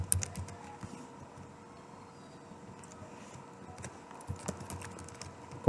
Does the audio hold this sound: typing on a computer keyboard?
yes